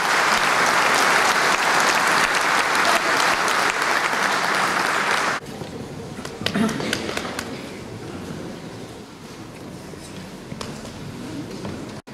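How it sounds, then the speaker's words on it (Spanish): Loud, sustained applause from an audience at a tourism congress inauguration greets a visiting delegation, then drops off sharply partway through, leaving scattered claps and a voice speaking over the room. "le vamos a rendir un nuevo aplauso"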